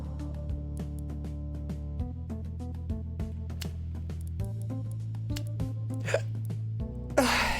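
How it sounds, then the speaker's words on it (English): Repeated short hiccups in a video game, popping out at irregular intervals over a steady, droning musical backdrop, with a louder burst near the end. "Hiccups."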